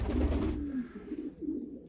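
Racing pigeons coo from a loft, a couple of low, throaty coos heard close and alone over a soft background.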